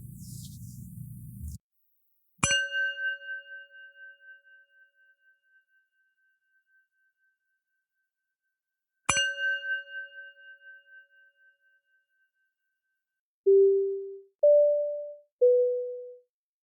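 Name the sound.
podcast intro chimes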